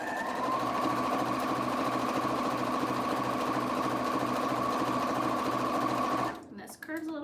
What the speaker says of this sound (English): I'm going to keep sewing